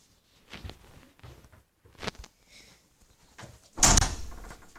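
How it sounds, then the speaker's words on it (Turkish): A door shuts with a loud, sharp thud near the end, after a few softer knocks and faint movement sounds, heard fairly close in a quiet room. "kapıyı kapatır mısın?"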